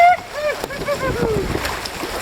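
A canoe splashes through a waterfall run on the Chapleau River, with sloshing water and paddle splashes under excited voices and shouts.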